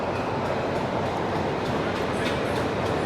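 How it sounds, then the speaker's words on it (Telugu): Broadband rumble and hiss of the 22157 Mail SF express train at a platform at Mumbai CSMT, steady and continuous throughout, with faint station noise and occasional light clatter on top. "సో మన ట్రైన్ ఈ పక్క అయితే ఉంది."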